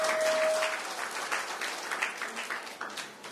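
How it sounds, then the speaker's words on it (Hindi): Audience applause at an evening devotional programme at a Brahma Kumaris spiritual centre, a full, sustained round of clapping from a seated crowd that starts loud and gradually tapers, heard alone without voices. "सभी का एक बार पुनः हम कर्तव्य ध्वनि से जोरदार तालियों से स्वागत करें।"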